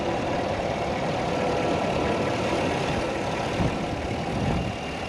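A 6.2-liter V8 in a 2021 GMC Yukon Denali idles steadily with the hood open, giving a continuous low, rumbling drone at even loudness throughout, with no voices over it.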